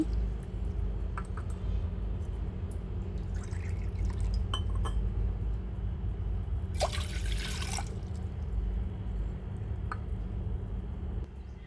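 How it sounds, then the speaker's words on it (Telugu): Two glasses of water are poured into a pot sitting on a gas stove, a brief splashing pour over a low steady background hum, with a few small drips and clinks around it. "ఆ గిన్నెలోకి 2 గ్లాసుల వాటర్ తీసుకోవాలి."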